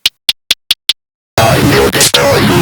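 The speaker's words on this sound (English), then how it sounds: "This time the same hi-hat that's acting as K letter." Five short, crisp synthesized hi-hat ticks made in Serum, evenly spaced and bright, play alone before a dense, loud distorted bass texture takes over.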